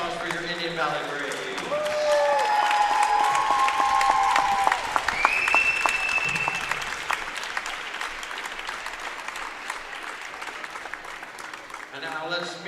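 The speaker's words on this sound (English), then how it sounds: "One more round of applause for your Indian Valley Braves" A crowd applauds the Indian Valley Braves girls' team, district runner-up at a girls' basketball championship. The clapping is steady and broadband for most of the stretch, with some whistles and cheers early on before it thins out.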